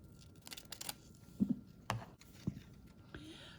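A sheet of acetate is cut in half with scissors, heard as a few close, quiet snips and crisp clicks spread over a few seconds with soft handling noise between them.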